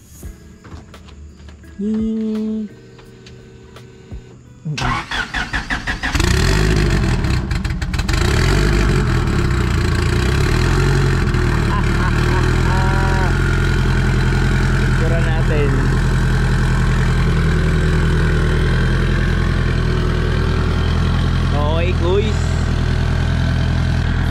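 A car engine cold-starts for a group run on Visayas Avenue, catching with a brief rough burst and then settling into a loud, steady close-up idle, with voices faintly under it.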